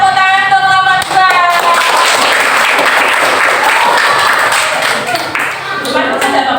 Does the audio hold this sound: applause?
yes